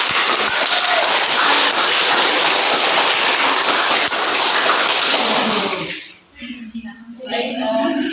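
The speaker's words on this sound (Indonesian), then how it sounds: "kita berikan aplaus" Students in a class applaud after group presentations, a dense patter of clapping that holds steady for several seconds and then dies away, followed by a voice speaking.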